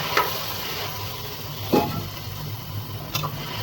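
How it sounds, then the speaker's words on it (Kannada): Washed vegetables sizzle steadily in hot oil in a pan for a bachelor-style vegetable bath. A soft, continuous crackle runs throughout, with a few light stirring scrapes. "ನೀಟಾಗಿ ಎಲ್ಲ ತೊಳೆದಿರೋದನ್ನೆಲ್ಲ ಹಾಕ್ಬಿಟ್ಟು ನೆಕ್ಸ್ಟ್ ಸ್ವಲ್ಪ ಫ್ರೈ ಮಾಡ್ಕೊಳ್ಳೋಣ"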